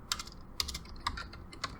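Keys clatter on a computer keyboard during a command-line tutorial, with about five crisp, close keystrokes at an uneven pace and no talking over them.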